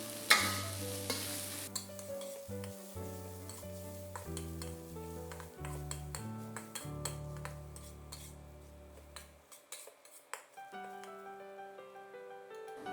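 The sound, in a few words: stirring choy sum with salt in a pan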